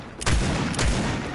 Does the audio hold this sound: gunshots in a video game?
yes